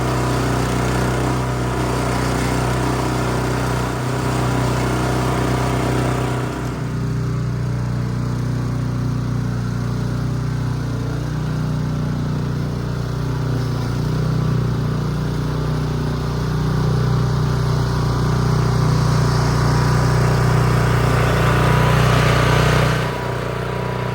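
A gas-powered 25-inch California Trimmer reel mower cuts grass on a trim pass during the first mow of the season. Its engine drones steadily and close by for the whole stretch, easing and rising slightly, with no talking.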